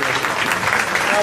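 Applause rises from the audience at a live MPSC quiz show in Pune after a correct answer, a brief, dense burst of clapping that stays fairly even throughout, with a little background voice mixed in.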